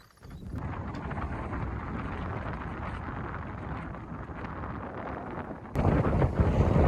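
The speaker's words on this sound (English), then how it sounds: "It's super windy." Strong wind buffets the microphone in a continuous roar, swelling louder and rougher toward the end.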